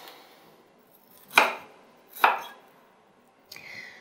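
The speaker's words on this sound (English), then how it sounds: "Chopping up that broccoli, popping it in there." A knife chops through a broccoli stalk on a cutting board, with two sharp, distinct chops about a second apart and a lighter knock at the end, close and clear with no talk.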